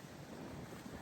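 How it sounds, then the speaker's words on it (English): Wind blowing outdoors on a windy day at a leaf cleanup job, a brief, steady rush of broadband wind noise buffeting the microphone, with no voices. "It's windy today"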